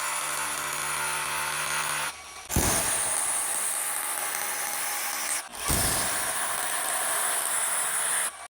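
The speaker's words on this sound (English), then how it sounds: "Right, so let me drill these holes." A power drill whines loudly in sustained bursts, drilling into solid brick, stopping briefly twice before grinding back in, harsh and close.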